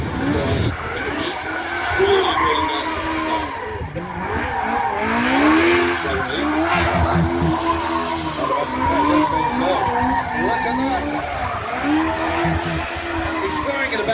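A Legends-series race car styled as a 1937 Ford, powered by a Yamaha 1200 bike engine, skids loudly at a stunt show, its tires squealing in wavering sweeps over a roaring engine, with someone briefly speaking.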